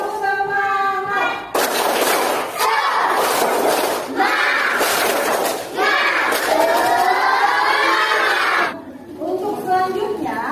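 An elementary classroom of students performs a rhythmic spirit clap and chant together, loud bursts of clapping and shouted voices in quick repeated rounds, close and energetic, with a short pause before the final round.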